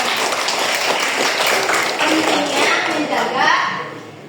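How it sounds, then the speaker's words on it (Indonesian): Classmates in a school lesson applaud together, a dense burst of steady clapping lasting several seconds, with a voice faintly audible underneath. "tepuk tangan teman-teman"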